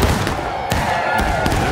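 Musket volley fire in the Smoke & Steel battle game, sounding as a few sharp broadband cracks spread across a brief moment over continuous battlefield noise, with no talk.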